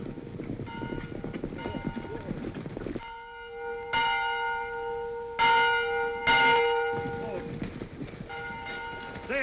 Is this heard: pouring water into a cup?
no